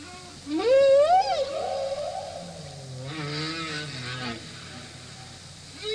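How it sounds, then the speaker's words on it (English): Long, haunting humpback whale song in Alaska rises and falls in pitch, a moaning upsweep followed by lower groaning tones, echoing as if underwater. "the humpbacks make the incredible sounds when they sing"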